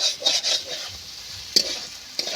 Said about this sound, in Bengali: বেগুনটা দিয়ে এইভাবে আমি নেড়ে চেড়ে ভালো মতো করে খুব সুন্দর মতো করে